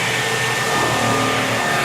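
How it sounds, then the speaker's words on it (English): Internal pump of a no-touch cleaning system starts and runs, giving a steady, loud, continuous motor whine and rush that holds without a break. "And turn on your pump."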